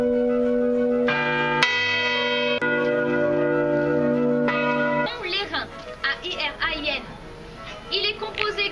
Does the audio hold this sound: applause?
no